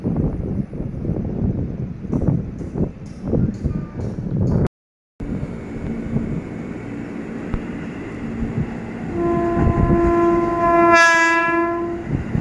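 An airport special train rolls loudly through Manggarai station in Jakarta with a steady rumble and wheel clatter, then sounds a long multi-tone horn near the end, while station announcements play in the background.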